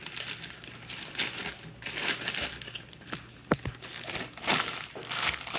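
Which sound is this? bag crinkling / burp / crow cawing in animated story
bag crinkling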